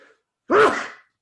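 A single sharp human sneeze in a quiet room, loud and close, with a brief intake before it.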